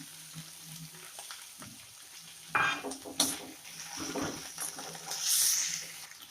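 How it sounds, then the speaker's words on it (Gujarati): Tomatoes drop into a pan of onions frying until translucent, giving a sudden burst of sizzling and splashing that rises, settles, then swells again, close and moderately loud. "આપણે અત્યારે એડ કરીશું ટામેટા"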